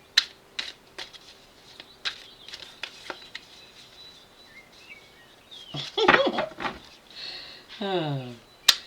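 Tarot cards shuffled by hand during a reading, a string of quiet crisp riffling snaps and slaps, followed by a brief burst of louder rustling and a soft voice.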